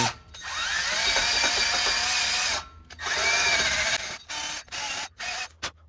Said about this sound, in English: If it is pretty rusty, then I would recommend to clean it with a wire brush.